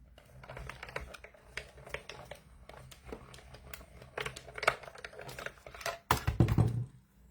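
A paper ghost being cut out for a dimensional Halloween card, heard as close, steady clicking snips and rustling paper, with a louder crinkling burst near the end and no speech.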